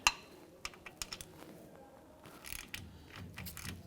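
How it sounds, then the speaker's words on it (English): A regular ratchet snugging the rear differential cover bolts on a 1993-1997 Ford Ranger, giving quiet, scattered clicks and metallic taps close by with no talk. "Now what I'm going to do is come back with a regular ratchet."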